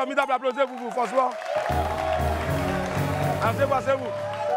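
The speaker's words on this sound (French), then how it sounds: "applaudissez-vous" Studio audience on a French television talk show applauding, broad sustained clapping rising under a man's speech and continuing behind it.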